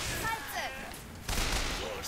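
Rapid bursts of gunfire in the shooter BioShock Infinite are heard as dense, faint crackling, with a heavier volley erupting midway over continuous game noise.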